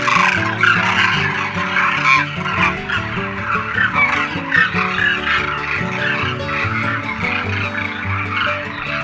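A large flock of demoiselle cranes near a temple fills the air with loud, overlapping trumpeting and rattling calls, a dense continuous chorus close by with no speech.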